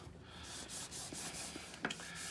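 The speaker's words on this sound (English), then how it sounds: "We're gonna do that with a Scotch-Brite pad and maybe even some steel wool" A Scotch-Brite pad scrubs across a thick finish on a budget guitar body in short, soft, close back-and-forth strokes, with one sharper scrape near the end.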